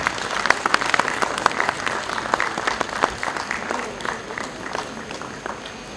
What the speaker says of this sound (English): May we have a big round of applause, all of you.